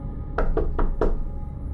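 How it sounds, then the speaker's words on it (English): Four firm knocks on a front door in quick succession, close and fairly loud, with a low steady room hum beneath and no voices. "there was a knock at the front door."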